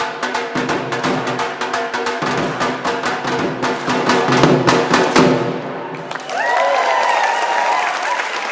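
A live outdoor arts audience claps loudly and steadily for several seconds in dense applause that fades out toward the end. A sustained shout or held vocal tone follows the clapping, along with some crowd noise.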